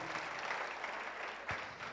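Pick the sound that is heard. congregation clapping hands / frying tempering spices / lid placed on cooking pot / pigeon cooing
congregation clapping hands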